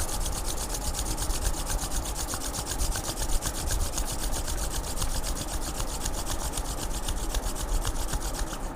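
Palms rubbed briskly together at the close of a beginners' yoga class, a continuous rough, rasping friction sound with fast, even strokes, close and fairly loud, no talking.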